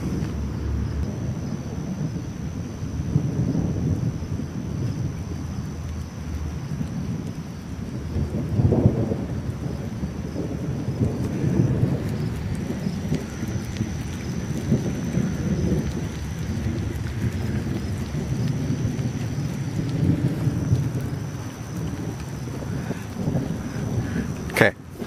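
Low, constant thunder rumbling through a lightning storm, a long sustained roll lasting over twenty seconds with a few stronger swells, alongside a faint steady tone and occasional quiet voices.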